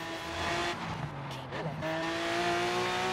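Exhaust of a 2011 Lamborghini Gallardo LP 570-4 Superleggera in Forza Horizon 3: a steady engine drone that dips and then climbs again, heard close without speech.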